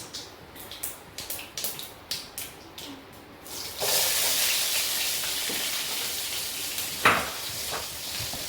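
Chopped ginger and garlic dropped into hot oil with mustard seeds for a soya chunks roast, a few sharp clicks giving way to a loud, continuous close sizzle with a brief louder spit.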